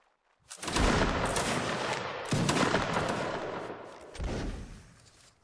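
Musket volleys in a Napoleonic Wars line battle video game, three loud crackling bursts of massed gunfire, each rolling out over a second or more with no voices.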